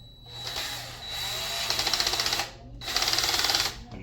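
A power drill whirs in two bursts of a second or so each, ratcheting as it drives a screw tight on a new GFI outlet, with a short pause between.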